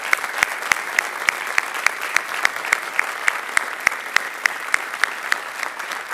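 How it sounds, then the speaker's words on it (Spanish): A church congregation applauds its volunteer servers with dense, steady clapping from many hands, a few sharp individual claps standing out in a regular rhythm throughout. "por favor ayúdame a darle un fuerte aplauso a todas y cada una de estas personas"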